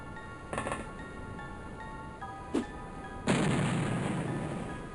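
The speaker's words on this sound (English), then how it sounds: "So we can throw a grenade." A grenade goes off in OpenXcom: Terror From the Deep, a single loud synthetic blast with a long noisy tail after two sharper shots, heard alone over a faint steady hum.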